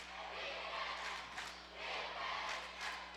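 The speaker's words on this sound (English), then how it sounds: "Loud crowd here. Both crowds yelling." Spectators from both sides yelling at a high school boys' basketball substate quarterfinal between Minneapolis Lions and Ellsworth, a dense, steady roar of crowd noise in a gym with swelling waves of shouting.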